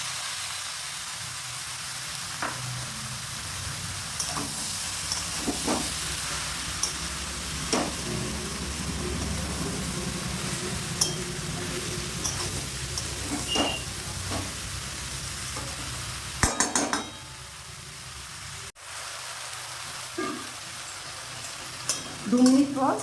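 Fish coated in salt and turmeric and banana flower sizzle in a hot pan in a Bengali kitchen. The frying hiss is constant, with scraping stirs and clinks, and the sizzle drops briefly near the end.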